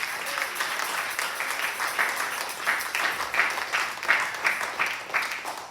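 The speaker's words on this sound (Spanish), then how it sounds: "Si le van a dar ese aplauso, déselo fuerte," Church congregation applauding during a pastor's sermon, a fairly soft, continuous wash of many hands clapping with slight swells in intensity.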